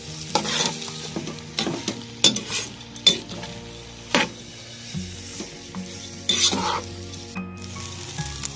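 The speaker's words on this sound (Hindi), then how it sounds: "चावलों को मिक्स कर लिया मैंने अच्छी तरीके से" Egg fried rice being stirred and fried in a pan, with repeated scraping stir strokes and a steady sizzle underneath, close and fairly loud, with intermittent metallic clinks from a utensil against the pan and brief background music.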